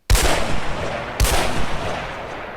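Two sharp, loud sniper rifle shots in the Ocean Wars game server, about a second apart, each cracking hard and then ringing out in a long fading tail, with no talking.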